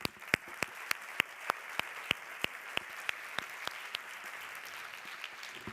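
Applause at the opening of a forum event, heard as a steady wash of clapping from an audience with a series of sharp, evenly spaced louder claps standing out on top, moderately faint and without talk.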